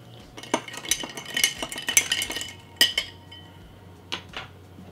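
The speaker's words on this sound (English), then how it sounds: "You can give that a gentle stir." A spoon stirs a gin and sweet vermouth cocktail in a glass, giving clustered metallic clinks and scrapes close by, then a few separate taps toward the end, with no voices.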